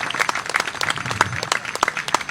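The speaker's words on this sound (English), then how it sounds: "the first people I'd like to applaud is all the parents, all the fans" Crowd of parents and fans clapping at a Canadian Little League baseball championship final, a steady patter of scattered applause with sharp individual claps standing out at close range.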